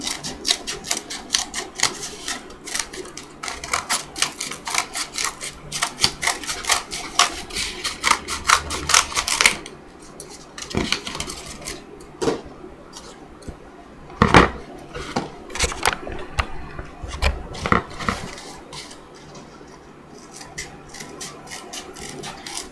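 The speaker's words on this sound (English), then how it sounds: "I traced around the CD, and now I'm going to cut it out" An old CD is cut out along a traced line, giving steady close scraping and snipping with repeated crackling cuts, a brief pause midway, then more cutting and a few sharper snaps.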